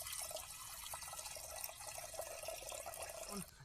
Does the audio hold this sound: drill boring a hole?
no